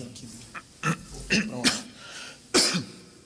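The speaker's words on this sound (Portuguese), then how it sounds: "Essa tosse tá braba, também tô" Several short coughs and throat clearings come in a loose cluster, close and moderately loud, with a brief pause before a final harsher cough.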